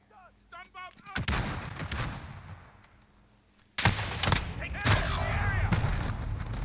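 Gunfire in a Modern Warfare 2019 gunfight: sharp, loud bursts of rapid shots with booming reports. A quiet stretch sits between two clusters of firing, and faint game sounds are heard early on.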